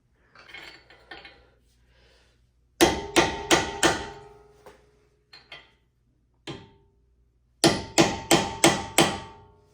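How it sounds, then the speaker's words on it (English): A hammer drives a punch and chisel against the strut pinch bolt on a 2014-2019 Jeep Cherokee front suspension, ringing metallic blows in two quick bursts of four to five hits, with lighter scattered taps between them. "Now we take our punch, chisel, and hammer and smack that in."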